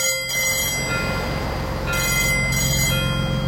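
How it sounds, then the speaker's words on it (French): The Titanic's alarm bell rings after an iceberg is sighted dead ahead: a steady, continuous metallic ringing that holds for several seconds with no voices over it. "Il sonne aussitôt la cloche d'alarme"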